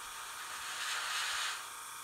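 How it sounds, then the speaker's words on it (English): Deck Blue enamel paint from 1942 sprays out as a faint, steady airy hiss that swells slightly midway, with no one speaking. "Okay, let's try our 1942 Deck Blue. Obviously, it sprays right."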